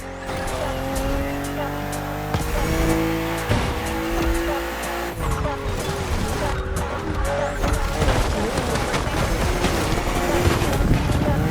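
BMW M2 and M4 race cars in The Crew Motorfest on a narrow road full of sharp bends, engines roaring continuously with shifting revs, tire squeals and skidding through the corners, loud throughout.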